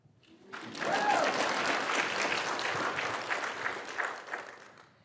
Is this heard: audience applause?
yes